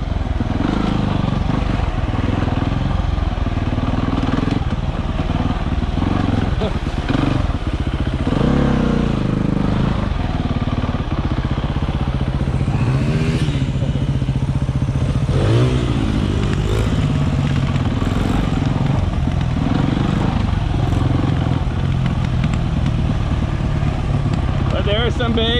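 Enduro motorcycles ridden slowly off-road, a continuous loud engine drone with low rumble, fluctuating throttle and clattering over rough ground, while a rider talks over it.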